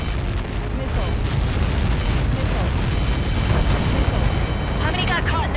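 A huge explosion in the video game Ace Combat 7 makes a dense, loud, continuous roar and rumble, with radio voices talking over it.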